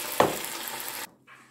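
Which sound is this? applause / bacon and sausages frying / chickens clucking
bacon and sausages frying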